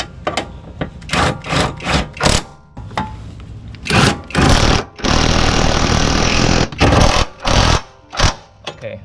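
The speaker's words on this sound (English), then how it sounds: "I'm just gonna try to put these two bolts on." Power tool driving bolts on the rear disc brake conversion of a Honda Civic, loud close bursts of whirring and rattling in short repeated pulses and one longer run, no voices.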